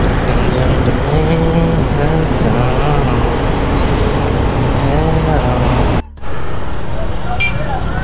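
Steady, loud road traffic noise heard from inside a vehicle used for ride-hailing, with a continuous engine and tyre rumble and a brief dropout partway through.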